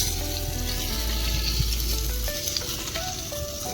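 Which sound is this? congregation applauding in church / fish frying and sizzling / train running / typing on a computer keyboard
fish frying and sizzling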